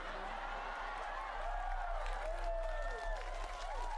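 Applause from a large crowd attending a humorous religious sermon in Dumai, Riau, faint and diffuse, mixed with a murmuring voice and crowd noise in a reverberant space.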